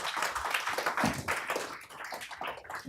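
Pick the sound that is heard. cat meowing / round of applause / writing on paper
round of applause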